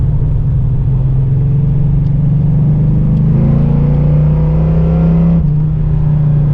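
Loud cabin rumble of a 1985 Chevrolet Monte Carlo accelerating, heard from inside with the windows up; the engine drone climbs steadily in pitch with a brief dip near the end, and no one speaks.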